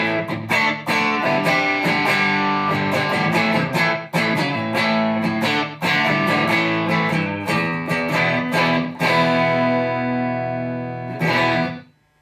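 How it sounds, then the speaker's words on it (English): Stratocaster electric guitar played through a TC Electronic Darkmatter Distortion pedal, a loud, sustained distorted riff of chords and notes with brief gaps, ringing out and fading near the end before a final strum. "And with the pedal on."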